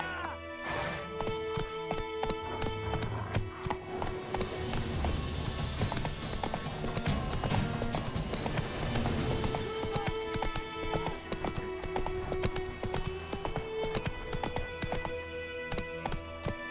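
Horse hooves clip-clop at a steady gallop in The Witcher 3, with an occasional whinny, layered over a dense game soundtrack of music and ambience throughout.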